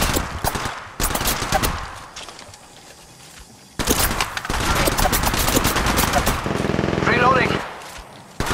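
Bursts of rapid automatic gunfire from an attacking squad in the mobile shooter game Apex Legends Mobile crackle in loud clusters separated by brief lulls, with a player shouting over the action.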